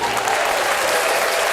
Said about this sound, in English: let's give a hand clap to that